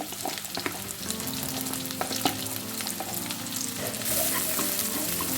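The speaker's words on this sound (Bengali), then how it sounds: "ফ্লেমটা লো রেখেছি অনেকটাই ব্রাউন হয়ে আসছে দেখো পেঁয়াজ কুচি দিয়ে দিলাম" Two tablespoons of chopped onions fry over a low flame in a pan for a Bengali mashkolai dal dish, a steady close sizzle with light stirring scrapes and no talk.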